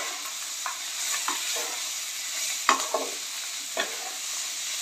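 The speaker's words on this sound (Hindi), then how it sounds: "फ्राई करेंगे।" Tomato and cabbage frying together in a pan for vegetable upma: a constant bright sizzle close by, broken by a few light clicks and scrapes of stirring.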